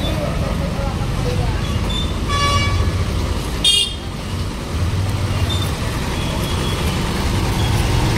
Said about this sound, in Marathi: ट्रॅफिक आहे, सायंकाळचा रस्ता एरिया आहे.